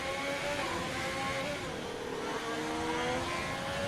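A Ferrari Formula 1 car engine in a racing video game at Monaco, a high-pitched, continuous whine that rises and falls as the car shifts gears through the streets, loud and steady with no talk.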